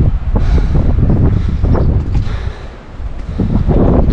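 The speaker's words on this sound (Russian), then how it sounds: "Тут, конечно, ветер сильный" Strong wind buffets the top of a tall tower, loud gusty rumbling and roaring that swells and dips, with a brief lull before surging again.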